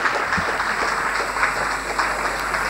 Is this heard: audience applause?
yes